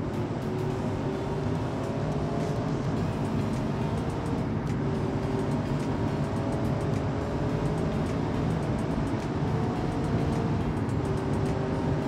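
A V8 car with a swapped LS7 engine climbs uphill in BeamNG, its engine drone steady and loud throughout with sustained harmonic tones, no talking over it.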